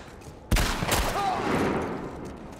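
Gunfire from a first-person shooter video game, a burst of shots starting abruptly and rolling on as a sustained fusillade with boomy echoes, fairly loud and close.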